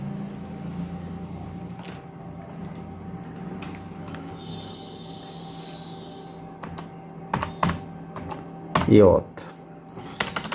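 Someone types on a computer keyboard in WordPad, producing a short burst of key clicks toward the end after quieter moments, with faint room hum and a brief spoken sound.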